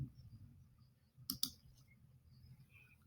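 Two quick, quiet computer mouse clicks on a register button during account setup, close and crisp against a near-silent room.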